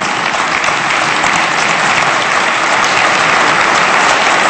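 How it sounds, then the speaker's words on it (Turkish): A large crowd of lawmakers applauds in the Turkish parliament, loud, dense and sustained clapping filling the chamber without pause, with no speech on top. "Sizden onlar için bir alkış istiyorum."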